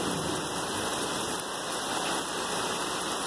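Steady rain falls outdoors over a garden, a dense, even hiss with no pauses, loud and continuous throughout, with no voices.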